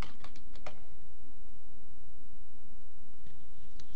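Someone types a command on a computer keyboard into a Linux terminal: quick clusters of light key clicks at the start, a quiet pause, then a few more taps near the end.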